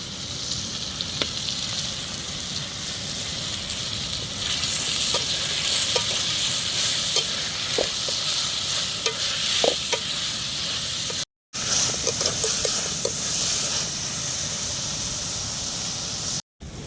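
Steady sizzling of chillies, garlic and curry leaves frying in hot oil, a continuous crackling hiss with occasional stirring clicks, close up and without talk.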